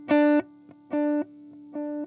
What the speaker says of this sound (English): the next one I want to show you is the analog sound